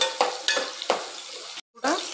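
Onion, green chili and curry leaves are sautéed in a pan: soft oil sizzle broken by several rhythmic scraping stirs of a spoon, a brief pause, then more stirring.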